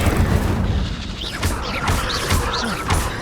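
Incendio fire spell in Hogwarts Legacy: repeated whooshing bursts of flame with booming, crashing impacts in quick succession, loud and rhythmic over a rumbling game backdrop.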